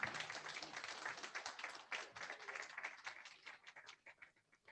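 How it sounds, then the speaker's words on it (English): Guests at a grand opening event applaud with brisk clapping that is fairly close and full at first, then thins into scattered claps as it fades out. "give a round of applause"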